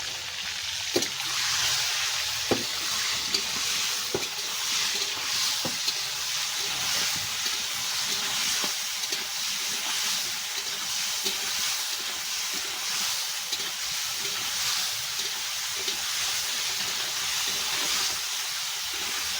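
Salted, turmeric-coated cauliflower pieces frying in hot oil in a pan, a steady bright sizzle and hiss that holds throughout, with occasional soft clicks and taps of a utensil, close and without talk.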